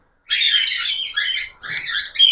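A budgerigar chirps and warbles continuously in bright, close, rapid chatter, with a brief pause midway.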